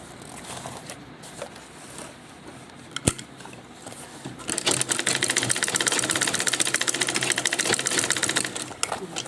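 A sewing machine top stitching a zipper pouch runs in a fast, steady rattling burst for the second half, after a quieter stretch with a few faint clicks and handling noises.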